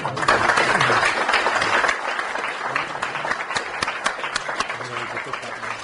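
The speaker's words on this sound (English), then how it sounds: "I'd like to give a big round of applause for Morris coming down from London." Steady, dense applause from an audience, a continuous wash of many hands clapping that eases slightly after a couple of seconds.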